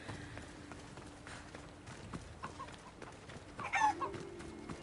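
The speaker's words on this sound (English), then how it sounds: "Hey, chickens, please don't hurt me." Chickens cluck softly over a low game ambience with footsteps in Assassin's Creed Odyssey, a brief louder squawk rising near the end.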